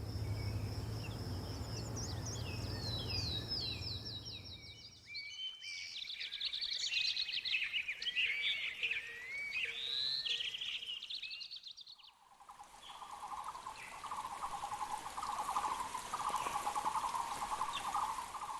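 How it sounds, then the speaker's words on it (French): Birdsong used as background ambience, several birds heard in turn: rapid high chirping trills, then warbling phrases, then a lower repeated call, steady and moderately close throughout, with a faint low hum early on and no talk. "il y a quasiment toujours des oiseaux en fond des épisodes de French Expats"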